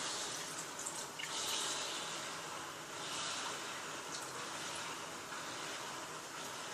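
Water pours steadily into the back of an aquarium filter, a faint continuous hiss and splash with a few small drips.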